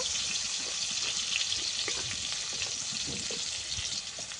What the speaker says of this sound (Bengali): এই যে উচ্ছেটাকে একদম ভালো করে ভাজা হয়ে গেছে।